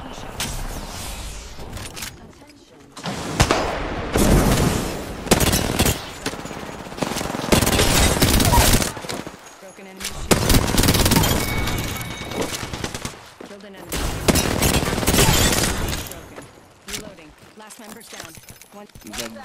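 Rapid bursts of automatic gunfire from an Apex Legends match come in several loud clusters separated by short pauses, with a player talking over some of them.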